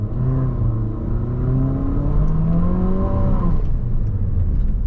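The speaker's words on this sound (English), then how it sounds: "Let's see if this thing can do a burnout." 2020 Infiniti QX50 Edition 30 attempting a burnout, the engine revving and climbing in pitch through the gears with a steady droning whine, loud and close.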